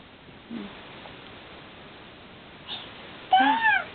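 Indoors on Easter morning, a cat gives a couple of soft short mews, then a louder, longer meow near the end, with quiet room noise in between.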